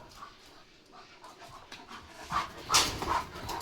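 A German Shepherd dog panting rapidly in quick, rhythmic breaths close by, growing louder partway through with a faint whimper, no talk.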